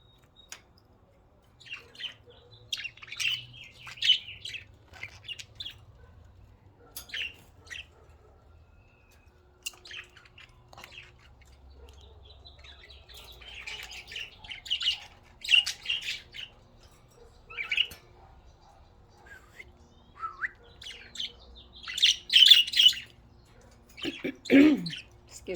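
Budgies chirp and squawk in scattered bursts, with bright tweets and occasional harsher calls coming and going over a quiet indoor background, growing busier toward the end.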